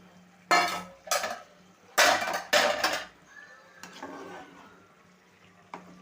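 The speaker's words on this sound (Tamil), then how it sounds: "இந்த அளவுக்கு கொதிச்சு வந்தோன்னே இப்போ கத்திரிக்காய் உள்ளே போட்டுறணும்" Brinjals drop into a pan of boiling gravy for ennai kathirikai. Several close, sharp clatters and splashes land in quick succession, then a low simmering bubble settles in with no talk.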